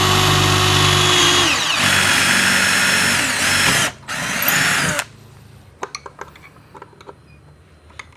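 Power drill boring bolt holes for a table saw mount, a loud whining drive that bogs and revs across several seconds, then stops abruptly, leaving scattered light knocks and clicks of handling.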